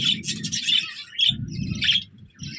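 Pet budgerigars kept in clay nesting pots chirp and chatter up close in bright, rapid bursts separated by brief pauses, with low cooing-like murmurs underneath.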